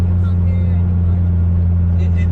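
Steady low tyre drone from a Stage 3 Ford Focus ST on Michelin tyres, a constant deep hum filling the cabin throughout, with voices talking over it.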